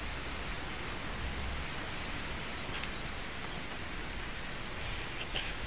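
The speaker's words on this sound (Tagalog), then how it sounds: "Lakas ng hangin guys." Steady, broadband rushing of strong wind fills the whole stretch, constant and fairly loud with no speech.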